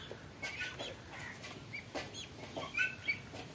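Farm-raised chickens on a small poultry farm give soft, scattered clucks and short calls, faint and intermittent against quiet background noise.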